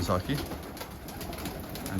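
Soft, low pigeon coos over a steady hum, with voices talking nearby.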